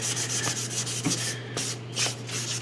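Soft, rhythmic rubbing strokes of a microfine sanding sponge, about 1,000 grit, on a model figure repeat about every half second, close up and fairly quiet, with no talking.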